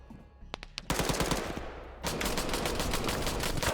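Gunfire in the Arma 3 combat game: a few scattered single shots, then loud sustained bursts of rapid automatic fire that grow denser and continue to the end.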